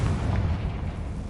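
A Confringo spell in Hogwarts Legacy detonates in a single heavy, booming blast with strong low rumble that decays over about a second, loud and close, with no voices.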